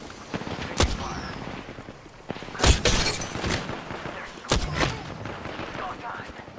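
Video game gunfire in a battle royale match, three sharp loud shots spaced over several seconds with scattered crackle in between, while a player talks throughout.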